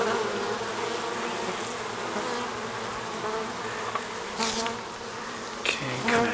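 Dense, steady buzzing of many bees fills the air close by, with occasional louder swells as individual bees pass near.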